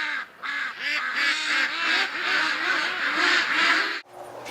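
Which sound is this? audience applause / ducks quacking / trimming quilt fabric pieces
ducks quacking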